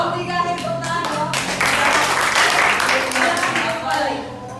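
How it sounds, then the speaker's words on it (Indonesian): Voices talk and clap over one another as a group of participants breaks into hand clapping midway, a busy, close burst of applause that rises and then tapers off. "Kelompok 3 akhir tepuk tangan dong."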